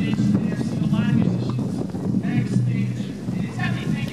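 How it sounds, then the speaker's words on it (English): Wind buffets an outdoor microphone at a city park music festival announcement, a steady low rumble with gusts running throughout, while a crowd murmurs faintly behind. "the wind is really getting bad over here"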